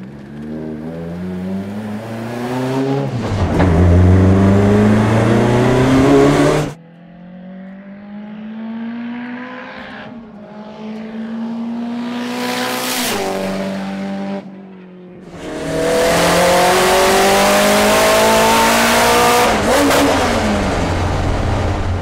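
An S14 time attack race car on a first shakedown. Its engine revs hard and climbs through the gears, dropping off between pulls. It is loud and close, with no talking over it.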